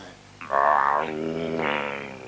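A rough, voiced dog growl rising into a snarl, fairly close and loud, then easing off into a lower rumble.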